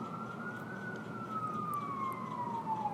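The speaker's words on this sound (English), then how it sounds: "so you even hear the sirens going on now." A single siren wails faintly in the distance, a long slowly falling tone that sweeps down across nearly three seconds over a low steady background hum.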